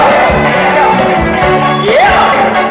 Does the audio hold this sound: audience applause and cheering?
yes